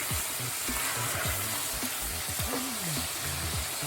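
Chicken with yogurt and ghee sizzles steadily in a hot pan while a spoon stirs it, giving a constant close frying hiss broken by scraping strokes and no voices.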